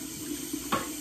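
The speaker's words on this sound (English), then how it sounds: "It's a light up faucet. You can kind of see it when it's on, like right now." Water running steadily from a light-up faucet into a sink, a continuous close hiss with a brief splashy surge near the end.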